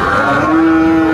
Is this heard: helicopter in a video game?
no